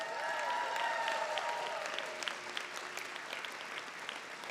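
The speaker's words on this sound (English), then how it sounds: "Please join me in a round of applause for these students" A crowd at a nursing school commencement ceremony gives sustained applause, a dense wash of clapping with scattered crisp claps and faint cheers, holding steady throughout.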